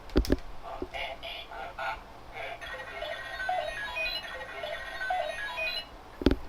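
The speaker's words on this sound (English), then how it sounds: "if I press these 2 buttons, you can get Wake Up, like Kiva's attack sound" A Kamen Rider Kiva DX IXA toy belt plays electronic chimes and synthesized tones in short bursts, fairly faint, with a couple of sharp button clicks at the start and end.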